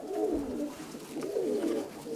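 Pigeons coo softly in two rolling, throaty phrases, close by, with no voices.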